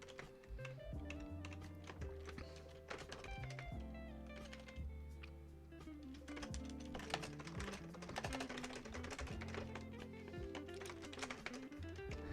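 Rapid clicking of a computer keyboard in irregular bursts of keystrokes, quiet and close, over a soft background tone.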